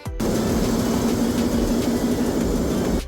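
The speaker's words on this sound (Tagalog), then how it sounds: "ipaparinig ko na rin sa inyo guys kung anong tunog dito sa makina ng barko" The engine aboard a ship drones loud and steady from close by, a dense mechanical roar with no pauses and no voices.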